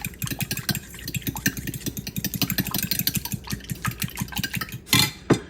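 Eggs being beaten into homemade pound cake batter: quick, regular whisking strokes knock steadily against the bowl, close and fairly loud, ending in a couple of heavier scrapes.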